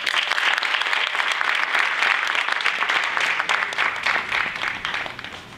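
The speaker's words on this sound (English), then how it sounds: "So please, everyone, let's just give a warm round of applause for Ms. Tawan Lowe." An audience at a fashion show claps continuously in sustained, dense applause, steady and loud from start to finish before easing slightly at the end.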